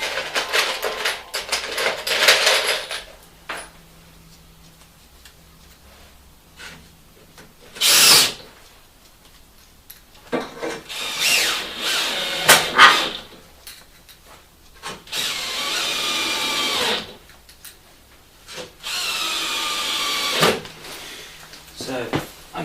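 A power drill drives screws into wood in several separate whirring bursts of a few seconds each, the motor straining and slowing as a screw resists, with clicks and handling noise between.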